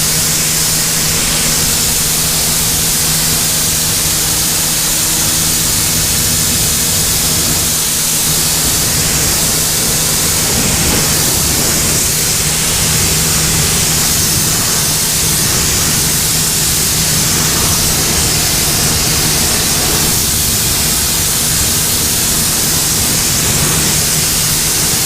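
A Sun Joe SPX3000 electric pressure washer fitted with a harder, narrower spray nozzle blasts water in a steady, loud hiss with a constant motor hum underneath, running without pause throughout.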